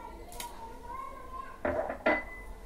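Raisins and dry fruits are stirred into a tangy-sweet amchur chutney in a pot, with faint scraping and a couple of clinks from a spoon against the metal over a low background hum.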